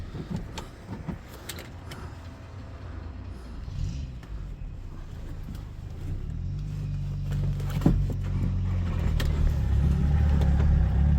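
Commercial van engine at a used-vehicle market starting quietly and settling into a low, steady idle that grows slightly louder and fuller over time, heard close with no talking.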